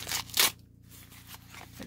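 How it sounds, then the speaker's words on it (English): A mail package being torn open by hand, with two bursts of crinkly ripping paper and plastic early on, then quieter rustling and handling close by. "So I'm going to just rip into it"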